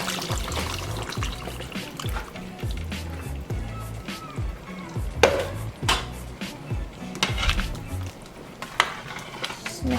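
A spoon stirs rice and tomato broth in a pot of caldo de pollo con arroz, with soft scraping, liquid sloshing and a few sharper clinks over a low steady beat, close and moderately quiet.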